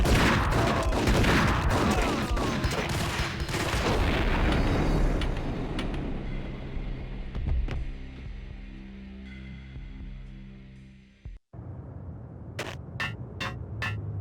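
Gunfire and explosive booms in Max Payne on Xbox Series S rattle in dense, continuous bursts, fading into a low droning rumble, then a few sharp separate cracks near the end.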